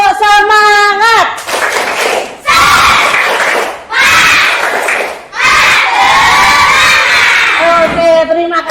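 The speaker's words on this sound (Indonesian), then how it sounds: "Tepuk semangat." A class of schoolchildren performs a spirit clap chant, loud group shouting in rhythmic bursts mixed with clapping and cheering, separated by short pauses.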